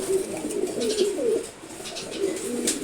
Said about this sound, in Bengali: এখানে সবগুলোই নর কবুতর